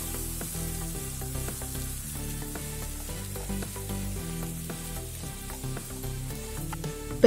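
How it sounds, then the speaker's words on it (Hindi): Onions fry with cumin, cinnamon and cardamom in a pan for an Odisha-style prawn and potato curry. A steady, close sizzle runs throughout, with light stirring clatter. No speech is heard. "प्याज को ब्राउन होने तक फ्राई करना है अच्छे से।"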